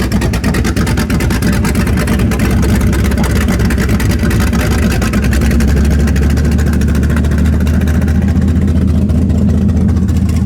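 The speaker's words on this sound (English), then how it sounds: "Hear how idled up it is?" A Chevrolet Camaro with a very tight torque converter idles high, giving a loud, steady, rumbling engine drone close by for the whole stretch with no voices.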